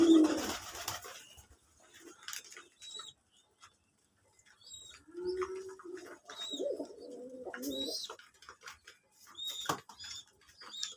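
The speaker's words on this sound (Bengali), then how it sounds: "এখান থেকে সব কবুতরের ডাক।" Pigeons coo in soft, low, repeated calls from a rural pigeon keeper's loft, after a brief louder burst at the start, with quiet gaps between the calls and no talking.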